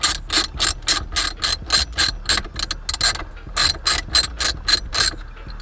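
A ratchet wrench fitted with a 10 mm socket backs out a bolt during car interior work, giving a close, steady run of rapid clicking strokes with brief pauses between bursts.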